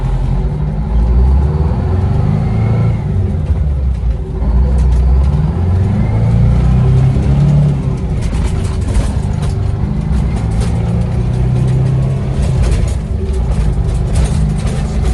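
An old cabover truck that sat unused for 27 years runs with a steady, close, low engine rumble, revving and surging as it is worked through its gears.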